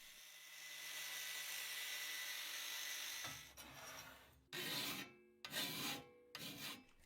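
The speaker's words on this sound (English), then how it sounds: "needed to remove the black cover to cut a slot in it" Cutting a slot into a black plastic 3D printer cover with a power tool: a long steady rasping whine, then several short loud cutting bursts separated by brief pauses, close by.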